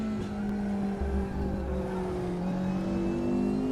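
Race car engine in the sim racing game RaceRoom drones at steady high revs, a strong tonal hum with a slight pitch drift, close and continuous, with no speech over it.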